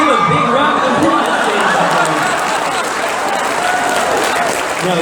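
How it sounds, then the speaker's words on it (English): Dense, steady applause from a large crowd at an anime convention panel, filling the whole stretch with continuous clapping and a murmur of voices and cheers underneath. "All right, let's give a big round of applause"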